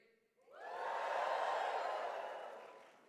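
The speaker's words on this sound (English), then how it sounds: "Okay, audience, on 3, you're going to give me a big cheer." A commencement audience at a health sciences university graduation gives a big cheer that swells quickly after a brief moment of quiet, holds as a broad, fairly distant roar of voices, then slowly fades.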